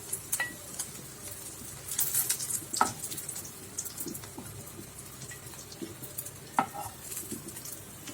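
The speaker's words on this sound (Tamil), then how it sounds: "மூடி வச்சுட்டு அப்படியே கொஞ்சம் மீதி இருக்க எண்ணெயில் அப்படியே வறுத்து எடுத்துக்கலாம்" Slices of bitter gourd fry in shallow oil in a pan, a faint, steady sizzle with a few soft clicks and scrapes and no talk over it.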